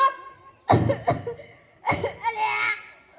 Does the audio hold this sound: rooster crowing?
no